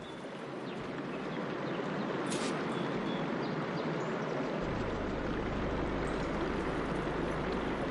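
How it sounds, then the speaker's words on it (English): Steady running water fills a room in the Horizon Forbidden West video game, a continuous broadband rush with a deeper low rumble joining partway through, without speech. "Aloy, I can hear water in the room again."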